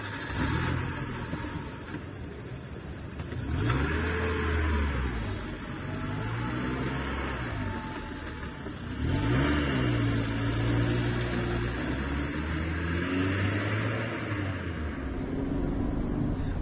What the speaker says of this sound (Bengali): আমি গাড়ি এগোচ্ছি